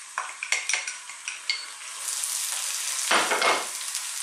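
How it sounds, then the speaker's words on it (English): Chopped onions hit hot olive oil in a pan, with a few clattering taps of utensil on pan followed by a steady loud sizzle and a fresh burst of frying as the onions are stirred, close by with no talking. "We're going to start off by dropping in our chopped onions."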